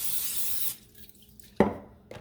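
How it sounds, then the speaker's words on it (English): Cooking spray hissed onto a casserole dish in a short close burst, followed by quiet and a couple of light clinks of kitchenware. "All I'm going to do is spray my"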